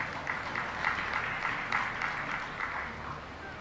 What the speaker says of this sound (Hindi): जिनको समझ आई उनने ताली बजाई।